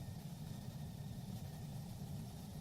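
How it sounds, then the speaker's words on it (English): An airplane engine in a flight simulator video game hums as a low, steady, faint drone, with no clear sputter or cutout and no voices. "My engine's stalling out."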